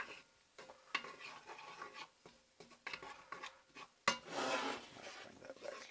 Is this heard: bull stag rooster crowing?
no